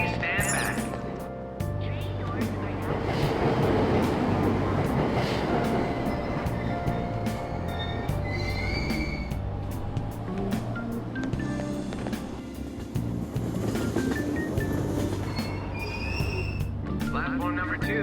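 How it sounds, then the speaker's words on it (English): Train pulling out of a station on a Tokyo metro line in the video game Persona 5 Royal, a steady loud rumble of rolling carriages with rail clatter and faint high squeals, with station announcements over it. "Train doors are now closing. Please stand back."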